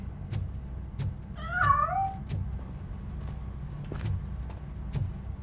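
A cat in the video game Robocop: Rogue City gives a short mewing call midway through, fairly close and brief, over a steady low engine-like rumble and ambient game noise with a few sharp ticks.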